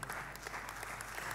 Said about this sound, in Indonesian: Saudara tepuk tangan